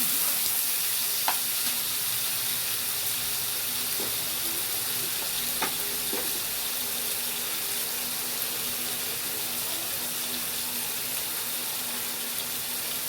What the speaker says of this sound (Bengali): এবার ভালো করে এটাকে নাড়াচাড়া করব